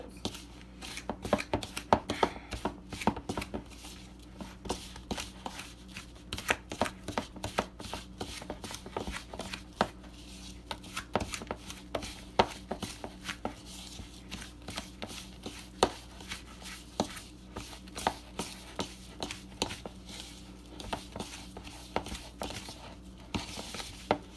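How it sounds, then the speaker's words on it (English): Margarine being cut into flour, cinnamon and sugar in a bowl for an apple pie crumb topping: a long run of quick, rhythmic soft chopping and scraping strokes, fairly faint and close, with no voices. "we are going to cut it until it is dry enough to sprinkle on top of the apples."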